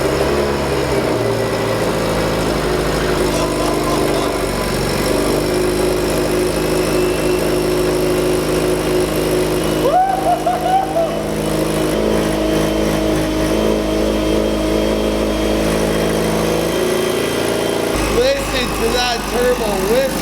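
A 500-horsepower Subaru STI engine cold-starts and settles into a loud, rough idle through a raucous exhaust, with a steady throb, occasional small blips and a fluttering hiss near the end.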